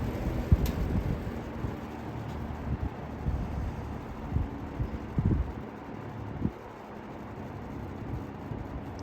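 A vintage Happy Home box fan running on its low setting, a steady broadband whoosh with a low rumble, close to the microphone, with occasional soft bumps and no talking.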